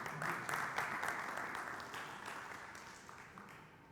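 A seminar audience applauds a brave volunteer, a dense burst of clapping from a crowd that starts full and gradually fades over a few seconds.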